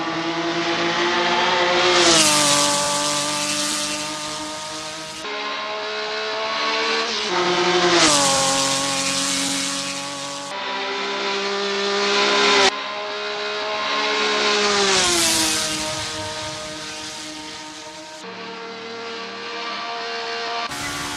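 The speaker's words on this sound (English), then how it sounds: "As the sun beats down and the engines roar, Jury U stakes a claim in 7th." Historic 1960s GT race cars roar around Spa-Francorchamps in the Assetto Corsa racing game, loud engines repeatedly climbing through the revs and dropping at gear changes, several cars passing close one after another.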